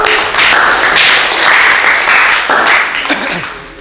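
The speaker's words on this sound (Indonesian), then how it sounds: "Tepuk tangan." Loud classroom applause rings out, a dense close burst of clapping that holds steady for a few seconds before easing slightly at the end.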